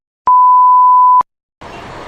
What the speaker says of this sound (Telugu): మళ్ళీ ఫోన్ రింగ్ అవుతుంది.